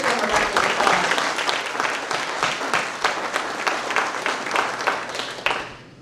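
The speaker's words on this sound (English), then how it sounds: "Let's give them a round of applause." An audience at an annual meeting breaks into dense, sustained applause, loud and steady for several seconds before tapering off at the end.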